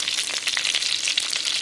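Curry leaves and pandan (rampe) leaves crackle in hot oil for a Sri Lankan beef curry, a loud, dense, continuous sizzle close up with rapid popping throughout.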